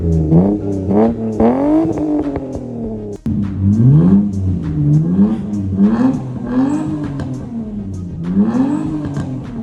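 Mitsubishi Eclipse engine fitted with a DNA catback exhaust, revved repeatedly in rising and falling bursts, loud and close, with a brief break partway through.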